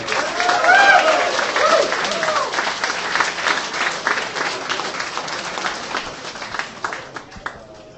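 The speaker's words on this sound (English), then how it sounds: "I'd like you all to give them a round of applause and wish them luck." An audience claps for the award judges at the Arthur C Clarke Award ceremony, a steady round of applause that slowly thins out. Early on it runs beneath a few voices and tonal sounds.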